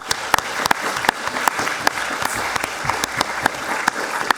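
An audience applauds a history conference panel, a steady, dense wash of many hands clapping throughout, with a few sharper individual claps standing out near the front.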